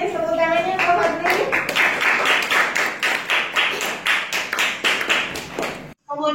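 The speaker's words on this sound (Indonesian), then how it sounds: "Tepuk tangannya Pak Fadli." A classroom of students claps for a classmate in rhythmic, fairly close bursts with a voice over the start, then the clapping stops abruptly.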